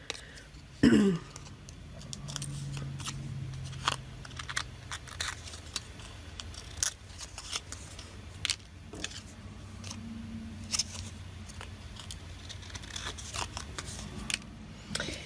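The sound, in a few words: scissors trimming paper tags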